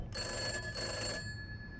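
A phone rings in the video game Summer of '58: a steady electronic ring with bright sustained tones, lasting about a second before cutting off into quiet room ambience.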